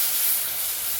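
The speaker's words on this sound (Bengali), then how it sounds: "এখন আমি এঁচোড়টাকে ঢেলে নেব।" Green jackfruit tipped into a hot pan gives a brief, loud, close burst of sizzling hiss lasting about a second.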